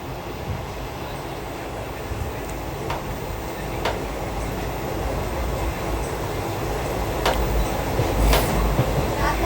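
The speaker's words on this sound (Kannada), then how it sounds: "ಪ್ಲಾಟ್ಫಾರ್ಮ್ ನಂಬರ್ ಒಂದರಲ್ಲಿ ನಮ್ಮ ಟ್ರೈನ್ ಬಂದಿರೋದು ಈಗ ಡಿಪಾರ್ಟ್ ಆಗ್ತಾಯಿದೆ" The SSS Hubballi–Amaravati Express pulls away from platform one at Gadag junction, a low steady rumble of rolling stock slowly growing louder, with a few sharp clanks and squeaks.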